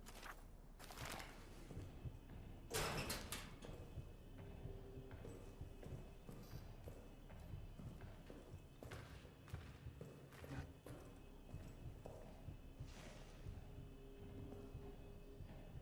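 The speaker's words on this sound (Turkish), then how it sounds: "Bir ayak sesi geliyor ama." Footsteps in the video game Amnesia: The Bunker, a series of faint, irregular thuds and clomping steps scattered over a quiet, low-level background with sharper knocks here and there.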